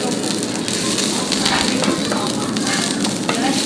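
Food crackles and sizzles steadily in hot oil throughout, a dense, loud frying hiss that never lets up, with no voices over it.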